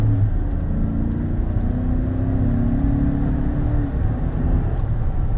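GMC Sierra 1500 SLT pickup truck driving with its automatic transmission shifting gears: a steady engine drone with rising and falling tonal sweeps as the revs change, continuous and fairly loud throughout.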